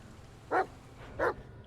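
A dog barks in the video game The Medium, two short, distinct barks spaced about half a second apart, moderately close and clear over quiet background.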